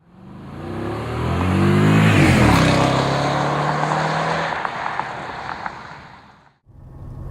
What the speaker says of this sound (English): Straight line acceleration is absolutely impeccable in this car.